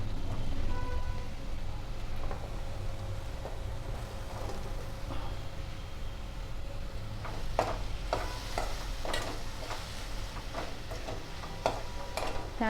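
Ridge gourd pieces sautéing in a pan for a Marathi vegetable dish, with a low, steady sizzle and a background hum, then a cluster of spoon scrapes and clinks against the pan toward the end. No one speaks.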